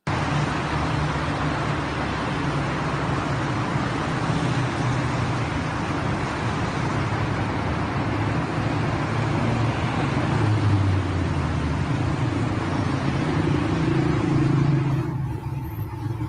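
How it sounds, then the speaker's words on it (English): Steady road traffic rumbles throughout, with cars passing and engines droning in a continuous dense wash of noise, fairly loud and constant, with no voices. "It's just car sounds."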